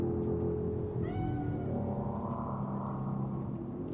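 A cat meows in Cyberpunk 2077, giving one clear, drawn-out meow with a rising then falling pitch, set over a continuous low ambient game rumble.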